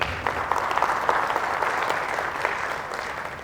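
Audience applause at a public speaking talk, a steady dense wash of many hands clapping, moderately loud and continuous throughout with no voices over it.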